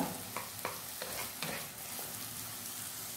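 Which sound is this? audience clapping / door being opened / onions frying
onions frying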